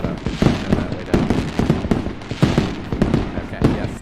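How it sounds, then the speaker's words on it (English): A fireworks sound effect plays on a game stream as a dense run of crackling bursts and pops over about four seconds. The bursts are loud and close and overlap one another. "whenever you hear, yay, fireworks"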